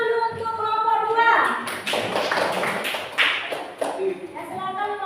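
A classroom group gives a short burst of applause, with scattered claps and taps under a speaking voice, partway through a teacher's coaching session.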